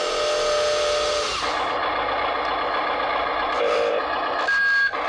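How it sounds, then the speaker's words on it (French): A steady electric motor drone of an RC wheel loader runs throughout, with its faint, high-pitched reversing beep joining briefly near the end. "ça, il y a le bip."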